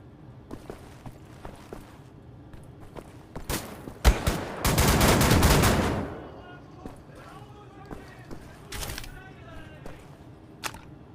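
Enemy gunfire in the Wolfenstein shooter game: scattered sharp shots, then a dense, loud two-second burst of rapid fire, followed by more sporadic cracks and a last pair of shots.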